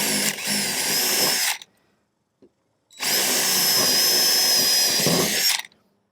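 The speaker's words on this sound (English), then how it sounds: "All right, let's get these 4 drilled and see what we have." A power drill bores holes for Rhino USA wheel chock tie-down hardware in two long, loud whining bursts, separated by a short pause with a faint click.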